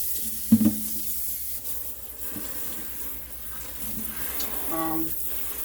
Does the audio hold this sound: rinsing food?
yes